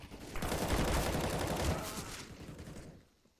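A dense, muffled burst of rapid gunfire in a competitive video game match rattles steadily for a few seconds and then fades out, with no voices over it.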